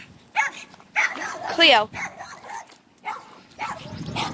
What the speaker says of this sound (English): another dog who started barking